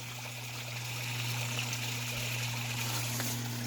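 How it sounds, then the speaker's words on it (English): A small waterfall splashes and trickles steadily nearby, a continuous gentle rush of falling water with a low hum beneath and no voices. "Little waterfall down there."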